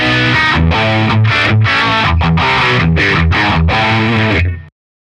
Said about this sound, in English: Let's put on the tape echo